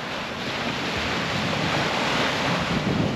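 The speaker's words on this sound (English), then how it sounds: "But you're getting the noise of the surf." Ocean surf breaking on a beach, a steady broadband wash of waves recorded up close with some wind buffeting the microphone, no voices.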